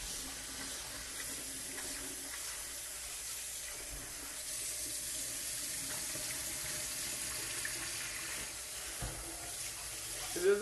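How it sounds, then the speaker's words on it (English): Cold tap water runs steadily over grated potatoes being rinsed for hashbrowns, a soft continuous hiss and splash at low level with a small clatter at the very end. "rinse this off with cold water until the water's clear"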